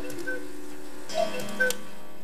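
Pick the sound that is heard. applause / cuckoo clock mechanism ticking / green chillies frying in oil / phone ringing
cuckoo clock mechanism ticking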